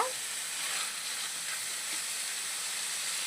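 Marinated chicken sizzles and fries steadily in a pan, a continuous close hiss with no talk over it.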